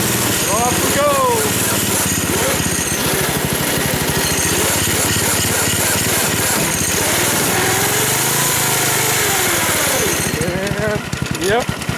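A homemade go-kart engine runs loud and close while driving, a buzzing small-engine drone rising and falling in pitch as the throttle changes throughout.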